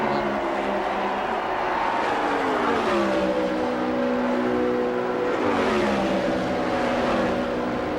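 An IndyCar race car at Indianapolis screams down the backstretch on its final pass, its high engine whine sweeping in pitch as it shifts and passes. A second sweep follows, heard steadily against a continuous roar of track noise.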